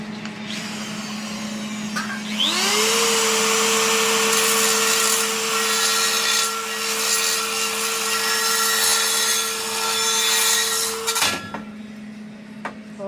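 A Bosch power tool works a stainless steel exhaust downpipe for a custom VW T5, a loud, steady, high whining drone ringing for about nine seconds before cutting off abruptly.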